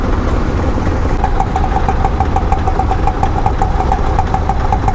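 Road traffic surrounds the listener as car and motorcycle engines idle and drone loudly and steadily, with a rapid repeating tick running through most of the stretch.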